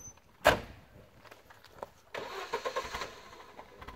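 A car door shuts with one sharp, near thud on a quiet roadside. A couple of seconds later the car's engine turns over and starts running.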